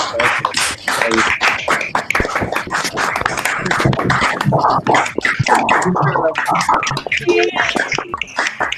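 Applause from participants at the close of a virtual thesis defense, a dense, steady patter of clapping over the whole stretch, with voices talking over it.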